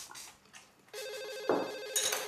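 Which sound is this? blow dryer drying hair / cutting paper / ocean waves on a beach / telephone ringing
telephone ringing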